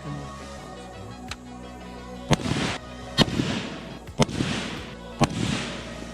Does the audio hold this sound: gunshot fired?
yes